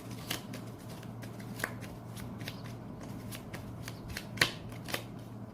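Tarot cards are shuffled and drawn with a steady soft riffle, and a few sharper flicks stand out over a low constant hum.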